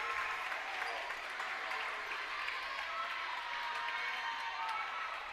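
A high school volleyball crowd at a Grinnell home match applauding and cheering on their feet during a tight set, dense continuous clapping and cheers heard from across the gym, fairly faint.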